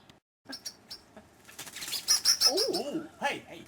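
A bird guarding its nest from a cat flaps its wings in quick close bursts, with brief chirps mixed in over a few seconds.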